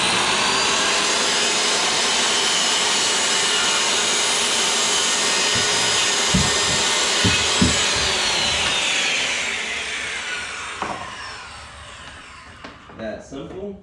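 A power saw cuts lumber for a budget-built canvas stretcher frame, a loud, continuous whining roar that holds steady for several seconds, then winds down as the blade spins to a stop, with a few knocks near the end.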